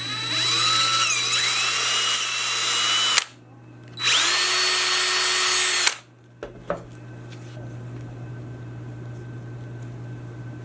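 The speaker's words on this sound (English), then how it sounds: "I just grabbed the next bit larger and re-drilled" A power drill re-bores a hole with a larger bit while modifying a Leatherman Micra key, running loud and close in two steady bursts of about three seconds each, followed by quieter room noise and a couple of soft clicks.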